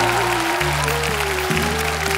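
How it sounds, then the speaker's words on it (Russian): Studio audience applause for a dancing couple on a televised dance competition show, a broad crackle of clapping running under loud sustained music for a couple of seconds. "Провожаем нашу пару аплодисментами."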